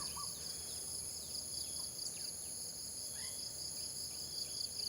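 Crickets chirp at night in a steady, dense high trill, faint and continuous, with a few soft bird calls scattered behind.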